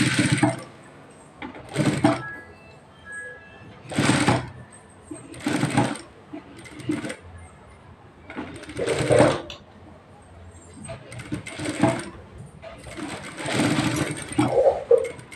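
A sewing machine stitches the neck of a blouse in repeated loud bursts of rapid mechanical whirring, separated by short pauses, with someone talking quietly between the runs.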